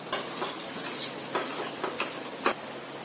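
Tomato puree masala frying in a pan as garlic, cumin and ginger go in, a steady close sizzle with a few sharper crackles and stirring scrapes, no talking.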